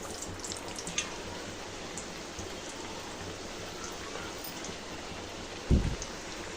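Snacks frying in a pan of hot oil over a medium flame, giving a steady, dense crackling sizzle like rain throughout, with one brief louder knock near the end.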